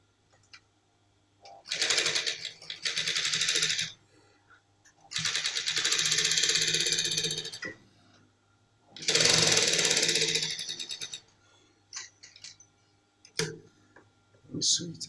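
A sewing machine runs over a trouser pocket in three steady bursts of about two to three seconds each, with short pauses between them. It is close and clear, with no talk over the stitching.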